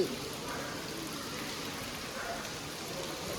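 Rain falls steadily outside during a family trip to Srikalahasti, heard as a soft, continuous hiss with no clear breaks.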